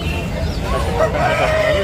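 Roosters at a country chicken market in Nellore, native Aseel fowl; a brief crowing call and clucks rise over steady crowd and market noise.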